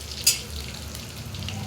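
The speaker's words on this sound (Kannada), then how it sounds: "ಎರಡು ಕಡೆ ಚೆನ್ನಾಗಿ ಫ್ರೈ ಆಗಬೇಕು." Green masala fish fries in a pan in coastal style, giving a soft, steady sizzle and crackle with one brief sharper spatter near the start, quiet and close.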